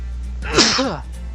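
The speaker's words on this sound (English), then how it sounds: "And I gotta sneeze." A single sharp sneeze bursts out close by, brief and loud against a low steady hum.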